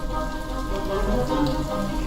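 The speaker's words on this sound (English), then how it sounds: "Said it was supposed to rain tonight." Steady rain falls and patters on a surface, an even wash of sound that fills the whole moment with no voices.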